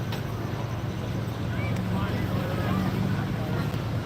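A diesel International tractor in the 8,000-pound open class at a tractor pull in Cumberland, Wisconsin, a steady low engine drone with harmonic bands, continuous and fairly loud with wind buffeting the microphone throughout.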